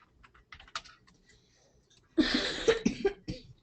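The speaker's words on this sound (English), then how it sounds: "I just been coughing" A burst of harsh coughing kicks in partway through, a few rough hacks close by after a stretch of quiet clicking.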